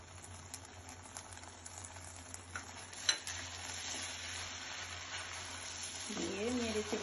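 Biryani with fresh mint and coriander leaves being stirred in a pot: a steady soft simmering hiss carries close scraping and shuffling strokes that grow busier toward the end, with no voices.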